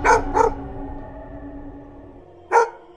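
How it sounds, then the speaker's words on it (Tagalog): Dog barking as a sound effect in a Filipino horror audio story, three sharp barks: two quick ones close together at the start, then a single louder bark after a pause, over a low steady background hum. "ang tinatahulan ng aso"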